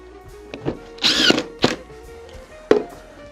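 Short bursts of a power screwdriver whirring as screws drive into wood, with a few knocks between them, close by.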